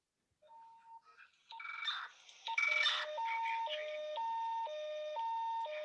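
An electronic panic alarm sound effect of rising bleeps that settles into a steady two-tone siren alternating at a regular pace, loud and alone.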